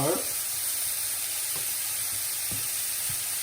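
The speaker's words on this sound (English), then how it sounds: "notice that there's a significantly more amount of sizzling that you can hear" Bacon and mushrooms sizzle in a pan as the base for a risotto, a steady bright hiss of frying fat with a few soft stirring taps scattered throughout, close and continuous.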